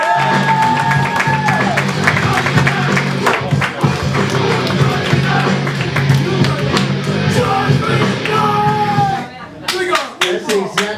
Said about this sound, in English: Please give a huge round of applause to Mr.